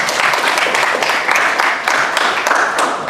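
Dense, even applause from a group in an Indonesian classroom during a teacher certification performance session. Many hands clap close and loud for about three seconds, without talk.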